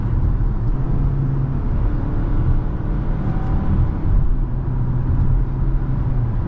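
Steady engine and road rumble from inside a 2024 Hyundai Tucson driving in sport mode with gear shifts, a low constant drone with slight changes in pitch and no voices.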